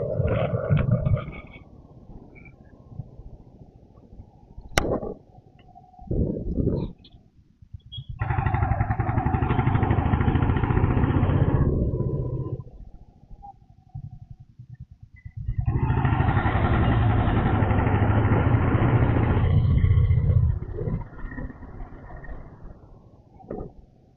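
Motorcycle engine revving loudly in two sustained bursts as the bike is ridden and parked, with quieter idling and brief knocks between, close to the microphone.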